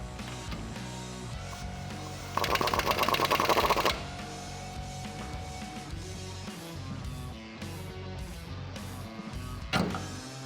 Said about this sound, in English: back this bolt out using the 18 millimeter on the impact